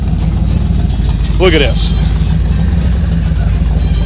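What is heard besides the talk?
1968 440 engine stroked to 472 cubic inch, idling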